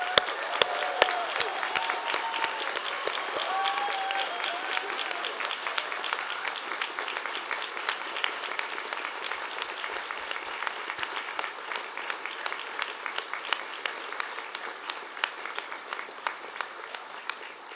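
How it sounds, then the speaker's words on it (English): Graduation ceremony audience for the Graduate School of Health breaking into steady, sustained applause with scattered cheers, a dense crowd of clapping hands that continues evenly throughout. "let's join together in enthusiastic applause and cheers for our new graduates"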